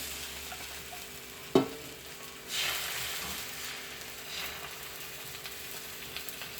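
Ghavan batter poured onto a hot pan on a stove and frying, with a soft sizzle and a sharp clack near the start, then a swell of hissing from the batter.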